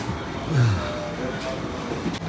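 Rumbling, rattling train interior ambience with a low mechanical drone and faint murmuring voices in the carriage.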